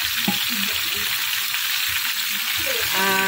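Steady, loud sizzling of chicken frying in a pan, a constant crackling hiss with faint clinks and a brief voice near the end.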